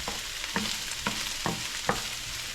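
Onions and garlic fry in a pan for a sloppy joe pizza, a steady close sizzle broken by a few regular stirring scrapes, no talking.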